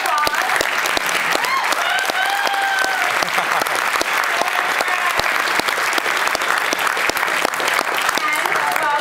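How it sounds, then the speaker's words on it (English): Sustained audience applause at a MySQL conference, dense clapping that stays loud and steady throughout, with a few voices faintly mixed in. "Big round of applause."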